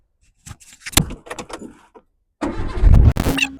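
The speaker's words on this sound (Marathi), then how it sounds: "गाडी स्टार्ट करू" A few clicks and thumps from inside a car come first, then after a brief pause the engine cranks and catches into a loud, close rumble.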